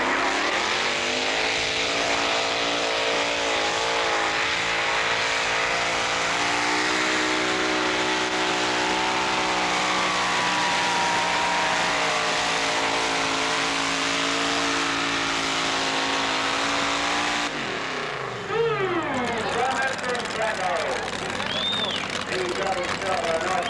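A tractor engine at a 1986 tractor pull revs hard and steadily for about eighteen seconds, loud and close, then drops off sharply into a shifting, winding note near the end.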